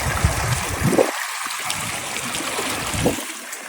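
A stream swollen by rain and field runoff on a sugarcane farm rushes steadily nearby, a constant broad wash of flowing water with occasional gurgles and splashes.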